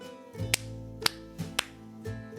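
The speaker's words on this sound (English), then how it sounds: "And then now you clap 3 times." Three sharp hand claps ring out in a Fijian kava ceremony, evenly spaced about half a second apart, close and crisp over a soft background hum.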